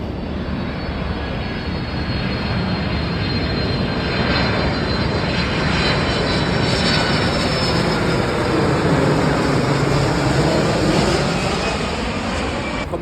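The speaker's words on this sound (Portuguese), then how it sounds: "Olha o avião." A fixed-wing airplane passes overhead with a loud, steady engine roar that fills the whole stretch, holding a broad even drone with a slight swell toward the end and no voices.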